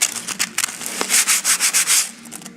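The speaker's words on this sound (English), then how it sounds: "Now I've given it 2 coats and I'm going to sand it off." Sandpaper rubs varnish off a wooden dummy in a run of rhythmic back-and-forth strokes, close and raspy, with faint knocks between passes and no voices.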